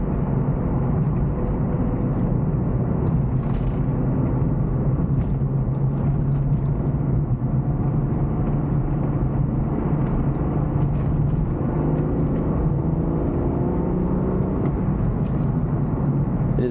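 A 1998 BMW M3 with a naturally aspirated engine, floored in third gear from around 3,000 RPM, gives a loud, steady engine drone that climbs in pitch as it accelerates, heard from inside the car with no talking.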